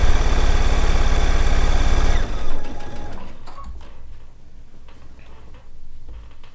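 A sewing machine stitches down quilt binding, running fast and loud with a dense, even mechanical chatter for about two seconds, then slowing and stopping, leaving soft clicks and handling noises.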